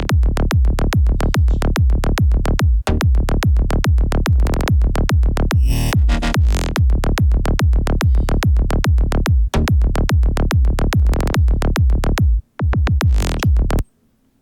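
A progressive psytrance bass line pounds in a fast, driving pattern of tight, punchy pulses, loud and up front, running a new chord progression with a short break partway and a drop near the end.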